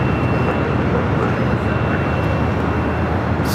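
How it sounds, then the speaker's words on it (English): Southwest Airlines Boeing 737-800 jet arriving at LAX from Las Vegas, a steady broadband engine roar rumbling close and loud throughout, with a faint thin whine riding on top. "That was Southwest Airlines flight 1939 coming in from Vegas, the 737-800."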